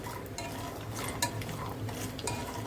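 Walnuts and cashews roasting in ghee in a pan, stirred with soft scraping and occasional light clinks of the spoon over a low, steady sizzle.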